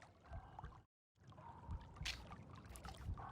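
Waterfall ambience from the fantasy game Steve Jackson's Sorcery! Part 2: soft rushing, trickling water with a brief silent gap partway through, fairly quiet and steady, with no talking.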